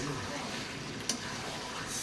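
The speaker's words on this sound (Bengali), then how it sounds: "এখন ভাজা আলুগুলো দিয়ে দিব, দিয়ে আর একটু কষাবো।" Meat curry with fried potatoes being stirred in a pan, a soft continuous sizzle of frying with light scraping, quiet and close.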